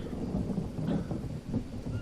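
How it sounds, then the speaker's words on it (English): Rain falling outdoors with a deep rumble of thunder, heard as a steady, moderately loud low roll with light rain texture throughout, no voices. "But the rain falling as we trek back will help to get us clean."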